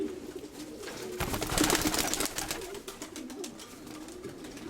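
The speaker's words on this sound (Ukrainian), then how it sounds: "99-та голубка, вона 22-го року народження." A female racing pigeon hatched in 2022 coos nearby in a soft, low, throaty burble that swells for a couple of seconds and then tapers off. Faint rustling is heard in the background, with no talking.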